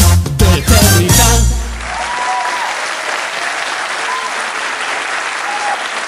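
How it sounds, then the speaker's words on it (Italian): After a few seconds of music, an audience breaks into sustained applause for four girls performing at the Stella del Sud 2019 show, steady dense clapping filling the hall. "Un applauso va a queste quattro fanciulle"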